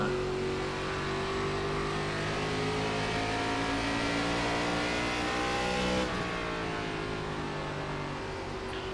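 A NASCAR ARCA Series race car engine in the iRacing video game at Richmond Raceway holds a steady, loud drone at high revs and shifts pitch briefly through a lift, with no talking.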